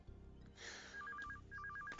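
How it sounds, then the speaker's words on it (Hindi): A telephone rings twice in repeating electronic tone bursts, fairly clear over a room hum, in a comedy scene. "फोन।"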